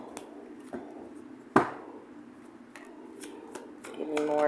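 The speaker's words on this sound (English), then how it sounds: "One more shuffle." Tarot cards riffle and slap together in irregular bursts, close by, with a brief sharp snap partway through and soft rustling between.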